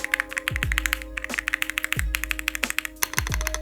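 Typing on a Higround mechanical keyboard with a solid case: a close, loud run of rapid keystrokes with deeper thocking bottom-outs scattered through, heard alone.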